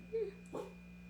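A puppy gives a short whimper followed by a soft yip, faint and close, over a steady electrical hum in a quiet room.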